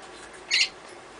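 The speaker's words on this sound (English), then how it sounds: "My birds are going hectic around here. It's their little playing hours." A single short, shrill squawk from a pet African Grey parrot during play time indoors, moderately loud over a quiet background.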